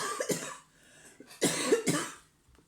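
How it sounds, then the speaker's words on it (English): A woman coughs several times close to the microphone, two heavy bursts of hacking coughs separated by short quiet gaps. "That's the cough."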